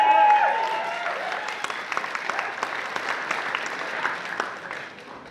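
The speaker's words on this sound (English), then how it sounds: "Despite that big round of applause," A crowd at gala speeches applauds steadily, the clapping holding strong before gradually fading toward the end.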